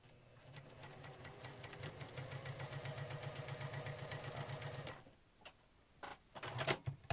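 Sewing machine stitching quilt triangles for a friendship star block, a steady rapid mechanical chatter running for about five seconds close up, then stopping as fabric is handled with a few clicks and rustles.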